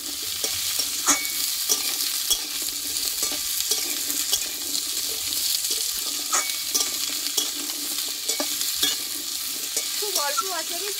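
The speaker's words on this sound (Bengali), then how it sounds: "বন্ধুরা এই আলু পেঁপেটা এমনভাবে কষতে হবে যে কষতে কষতে নরম হয়ে যায়" Potato and papaya pieces sizzle steadily in a hot pan while being stirred, with a spatula scraping and clinking against the metal at irregular intervals, close up and without talk.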